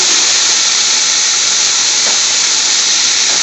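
Three large chopped onions sizzle loudly and steadily in a hot pan with garlic, a dense continuous hiss filling the whole stretch with no pauses.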